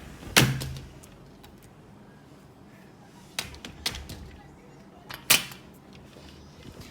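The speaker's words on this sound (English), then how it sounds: "Let's shut this door." A hotel room door in Thailand is shut, giving a few sharp close knocks and clacks scattered over several seconds against a quiet room background.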